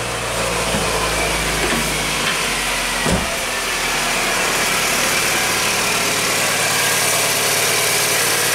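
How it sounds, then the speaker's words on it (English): A Toyota Camry engine with a loose timing belt idles steadily and loudly up close, a constant mechanical drone with a brief knock near the middle, no voices. "So let's fire it up, rev it up, and see where the noise is coming from."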